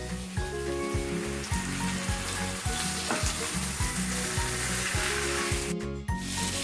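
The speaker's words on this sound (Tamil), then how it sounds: "மீன் நல்லா ஃப்ரை ஆகிறதுக்கு விடலாங்க." Vanjaram fish slices fry on a tawa in a close, continuous sizzle and crackle, with occasional scraping sounds.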